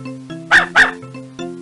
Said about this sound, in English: It says, woof woof, wags its tail and has a wet nose.